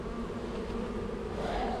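Honeybees fly around a hive hut being inspected outdoors, giving a steady, dense buzzing drone from many insects close by that holds level throughout, with no talking.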